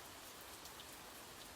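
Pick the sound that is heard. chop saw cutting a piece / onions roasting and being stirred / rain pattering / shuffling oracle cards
rain pattering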